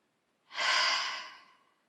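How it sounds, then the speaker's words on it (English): One deep breath is heard alone, close and soft: a single airy rush of air that starts abruptly, peaks, then slowly fades out over about a second, with silence before and after. "take a deep breath in through the nose and then breathe out through your mouth"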